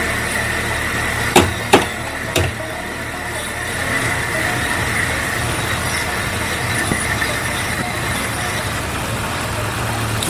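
A 1992 Jeep Cherokee engine idles with a steady low rumble and hum throughout, close by, with a few sharp clicks or knocks near the start.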